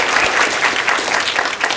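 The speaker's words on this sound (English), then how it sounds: "Let's give her a round of applause." An audience claps steadily at a community education talk, a dense, even patter of many hands throughout.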